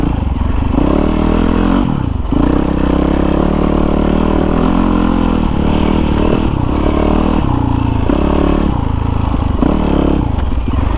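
A 2016 Yamaha YZ450FX 450cc dirt bike ridden off the main road, its engine droning loudly and steadily with repeated throttle dips and surges, plus clatter and scraping from the ride, close to the rider.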